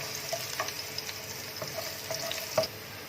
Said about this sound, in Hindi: ये तो लहसुन और ज़ीरा फ्राई हो चुका है